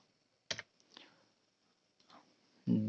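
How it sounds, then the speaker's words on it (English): A few sharp keyboard key presses on a computer: one crisp click, then softer scattered taps at intervals, close and fairly quiet with no talk, ending on a louder thump. "Select and press keyboard delete button."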